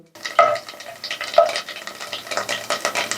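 Dried chillies and black mustard with five-spice seeds spit and crackle in hot oil, with a busy ongoing sizzle broken by a couple of sharp pops and stirring scrapes, fairly close and steady.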